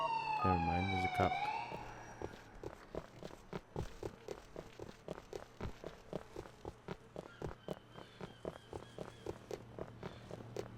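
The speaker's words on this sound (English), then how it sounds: "I hear the police car." A police car siren in the video game GTA 4 wails briefly and loudly at the start, then cuts off, giving way to a steady run of quick footstep-like taps at a fairly low level.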